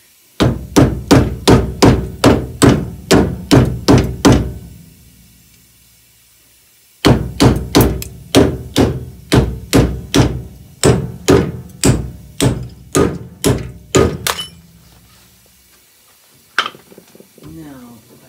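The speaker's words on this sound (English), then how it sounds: "let's just tap this through" Hammer tapping a pin through an MGB GT leaf spring shackle, two long runs of sharp, evenly spaced metallic blows close by, separated by a pause, then a few scattered knocks.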